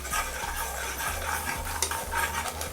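Chopped onion and green chillies stirred in a sizzling pan, a steady hiss of frying with rhythmic scraping strokes of a spatula against the metal, close and moderately loud, no talking.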